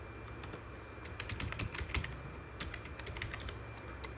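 JavaScript code is typed on a computer keyboard, a quiet run of rapid key clicks for several seconds with no voices.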